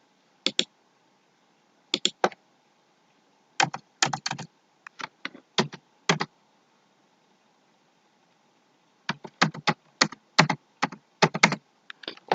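Keys clatter on a computer keyboard while text is typed in a word processor, coming in quick bursts of close clicks separated by silent pauses, with a faint hum underneath.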